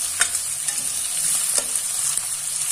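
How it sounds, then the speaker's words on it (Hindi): Chopped green chilli and onion fry with crushed garlic for a potato and green chickpea curry, a bright, close sizzle with repeated stirring scrapes and taps, no voices. "अब ये कटी हुई हरी मिर्च और प्याज को डाल के अच्छे से भून लेंगे"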